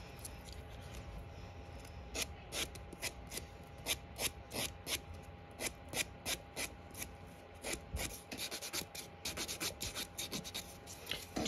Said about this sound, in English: Just buffing it a little bit